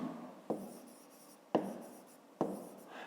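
A pen writes on paper during a fifth-grade math exercise, with three distinct scratchy strokes spaced about a second apart, each fading into a soft rub, close and quiet.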